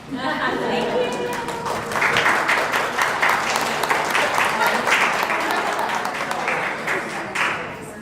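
Applause from a women's conference audience after a talk, building from lighter clapping into a fuller dense round in the middle, with speech mixed in and easing off at the close.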